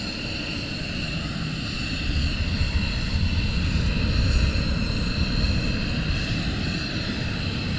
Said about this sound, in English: Another one is taxiing down.